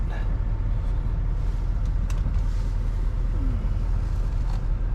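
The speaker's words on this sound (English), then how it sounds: "So I'm here at the shop right now, pulling this truck in" A 2021 Chevy 2500 HD Duramax pickup fitted with a plow rumbles steadily at low speed as it eases into a shop garage, a continuous close engine drone with no talk.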